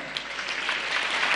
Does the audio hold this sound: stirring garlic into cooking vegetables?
no